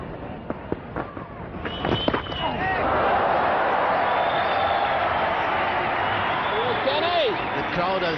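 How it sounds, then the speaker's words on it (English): A large cricket stadium crowd in Pune roars and cheers for New Zealand during a close one-day match against Australia. After a few sharp bangs, the roar builds and holds as a loud, sustained wall of noise, with whistles on top. "The crowd has decided to back the New Zealanders in this close game"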